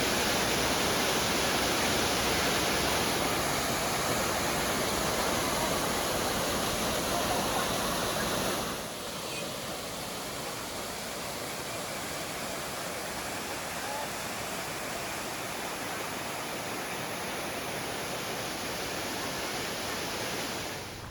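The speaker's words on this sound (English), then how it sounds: "This is powerhouse waterfall. It's the tallest waterfall that I could see." Powerhouse waterfall in Munnar, Kerala, the tallest in the area, gives a steady, dense roar of falling water. It is loud for the first nine seconds, then drops slightly and stays constant to the end, with no one speaking.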